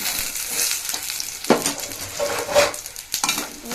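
Stuffed chillies (pindi mirchi) sizzle steadily in a covered pan while a utensil scrapes and shifts them around in a few soft knocks.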